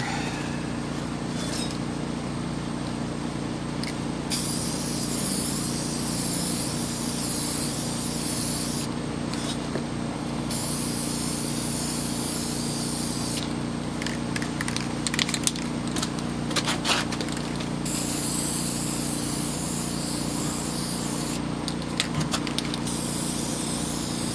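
Spray paint is applied as a first full coat onto IDF clone intake manifolds, producing a steady, close hiss that runs almost continuously with a few brief interruptions and light clicking of the nozzle.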